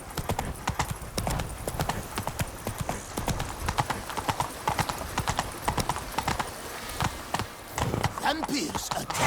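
A horse gallops in The Witcher 3, its hooves clip-clopping in a steady, loud, close rhythm for the whole stretch, with an occasional whinny and faint voices in the background.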